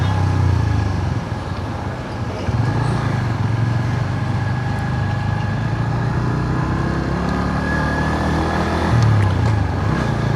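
A motorbike ridden along the road around Polgolla Barrage in Kandy gives a steady, close engine drone mixed with road and wind noise throughout.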